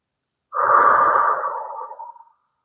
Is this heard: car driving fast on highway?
no